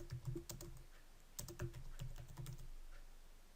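Soft keystrokes on a computer keyboard as a letter is typed, a few quick clusters of clicks with short pauses between, quiet and close, without any talk.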